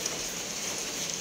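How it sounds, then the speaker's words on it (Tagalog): Light, steady rain falling outdoors, an even pattering hiss with no breaks and no voices over it. "Umuulan na."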